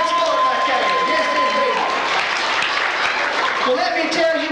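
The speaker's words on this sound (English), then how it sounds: "Oh, nice round of applause." A theater audience at a 1999 Cowboys La Cage show breaks into loud, sustained clapping after a birthday song, with scattered cheers and voices mixed into the dense applause.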